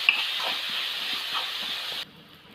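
Onions frying with salt in a pan for a tuna fish snack give a steady, close hiss with faint crackles. The sizzle stops abruptly near the end.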